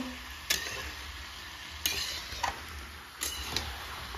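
Chicken cooking in a pan, with a soft steady sizzle broken by several sharp scraping and clinking stirs of a utensil against the pan, close and fairly quiet with no talking.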